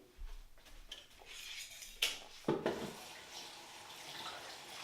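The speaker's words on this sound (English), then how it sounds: "I need to wash this, rinse this in between." Running water from a tap rinsing a bowl while bleaching hair, faint, uneven splashing and a couple of sharper clinks and bursts of flow, heard close by without talk.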